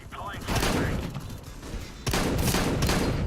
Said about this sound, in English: I'm going to be using more the shotgun, the XM 1014 shotgun